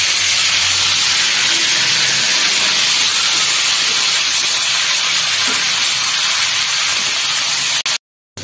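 Cauliflower florets fry in hot oil in a kadai until reddish, giving a loud, steady, close sizzling hiss that fills the whole clip and cuts off abruptly near the end.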